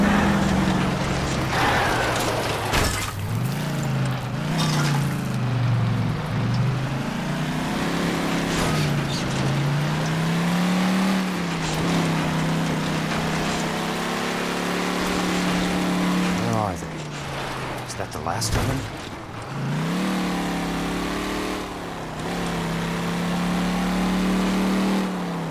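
A car engine drones throughout a drive in the 2011 video game L.A. Noire, its pitch rising and falling as it accelerates and shifts, steady and fairly loud beneath voices talking.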